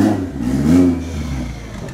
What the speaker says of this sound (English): This one's turbo. This one's not stock. You can hear the turbos.